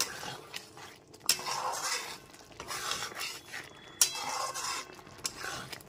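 A spoon stirs poppy seed paste into sliced ridge gourd in a pan for Bengali jhinge posto, making steady soft scraping and rubbing with two light metallic clinks.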